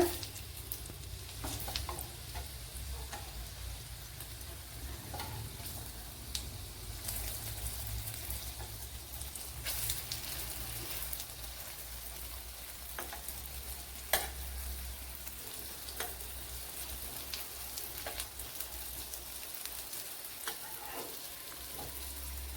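Chapathi sweet pieces frying in hot oil in a pan, a continuous close sizzle with occasional soft scrapes and taps as the pieces are turned, steady throughout with no talking.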